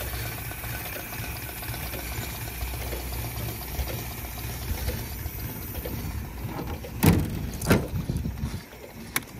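A Morris 8 Tourer engine ticks over at idle, a low, even mechanical patter with a faint ticking rhythm, close by, with a couple of brief louder clicks near the end.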